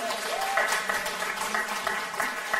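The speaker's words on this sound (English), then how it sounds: "Round of applause." An audience claps at a community talk for a few seconds, a steady patter of applause of moderate loudness with a faint voice underneath.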